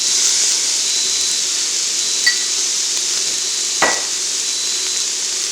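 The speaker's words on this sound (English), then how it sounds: "I'm using my pressure cooker, but I'm using one of the other features, which is saute." Green onion bottoms sauté in a pressure cooker on its saute setting, a constant loud hissing sizzle with a couple of faint utensil taps.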